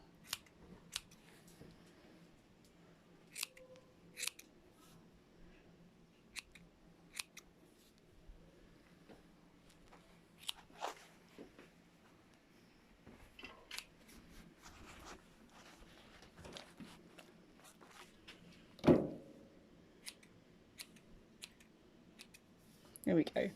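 Scissors snipping the face hair of a Doodle dog, with quiet, close, irregular small snips spread throughout and a single sharper cut near the end.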